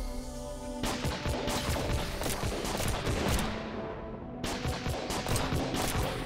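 Dense, loud gunfire rattles almost without pause in the side-scrolling ship combat game Farlight Commanders, rapid overlapping shots and impacts with a brief thinning of the high crackle midway before the barrage resumes.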